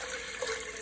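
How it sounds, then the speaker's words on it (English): Water poured into a pot for cooking quinoa, a steady close splashing pour running continuously without any talk. "I'm going to use 3 cups of water"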